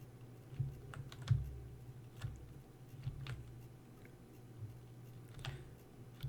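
Irregular clicking from build and repair units in the Space Engineers video game; sparse, soft ticks scattered over a low steady hum, with a few sharper clicks and no voices.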